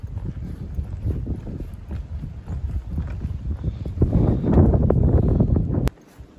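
Strong gusting wind on a foggy mountain section of the Appalachian Trail, rumbling and buffeting close to the microphone, swelling louder before cutting off abruptly near the end.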